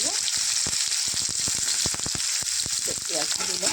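Sliced onions and panch phoron frying in hot oil for a bitter gourd curry, giving a loud, steady sizzle with crackling pops and stirring clatter throughout.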